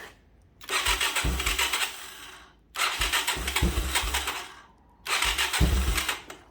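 The engine of a 1985 Yamaha YTM225DR three-wheeler, unrun for 30 years, cranks and catches three times in a row, each burst loud and rough with a sputtering low rumble, separated by brief pauses.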